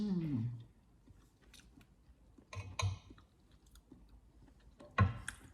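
Mushrooms and vegetables freshly fried at home being chewed, with soft crunchy bites coming in a few separate bursts against a quiet room, close and fairly faint.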